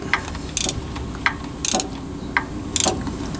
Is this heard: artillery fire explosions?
no